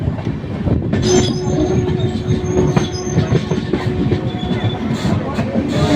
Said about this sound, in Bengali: খড়গপুর থেকে ট্রেন কিন্তু পাঁচ মিনিট হল্টের পর ট্রেন ছেড়ে দিয়েছে